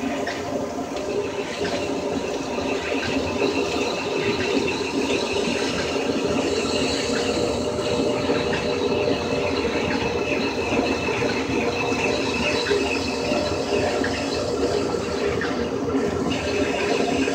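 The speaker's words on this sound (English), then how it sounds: "Let's put a nice chamfer on there to help that weld really sink in" A grinder cuts a chamfer into steel in a shop before welding, a continuous loud rasping whine that holds steady with little change from start to finish.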